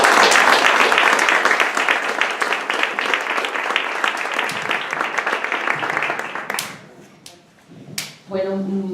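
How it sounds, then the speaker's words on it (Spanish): Audience applause at a book presentation, dense and steady for about six seconds before thinning into scattered claps and dying away, with a voice beginning to speak at the very end. "el aplauso para vosotros"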